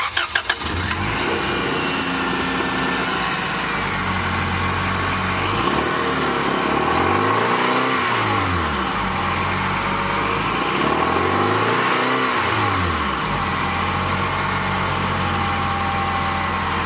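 A 1997 Acura CL engine with a newly replaced exhaust manifold gasket starts and idles loudly close by, then revs up twice in long rising and falling sweeps, with a steady engine rumble between them.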